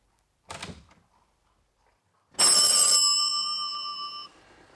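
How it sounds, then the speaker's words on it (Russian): An old telephone rings in a 1977 Soviet crime film. A short clatter comes first, then after a pause one loud, sustained ring lasts about two seconds and stops. "Товарищ Климов, вас срочно к телефону"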